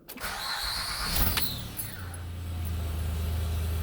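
A Honda Pilot engine is started with the check engine light being watched, giving a short cranking burst before it settles into a steady low idle hum, close and alone without any talk.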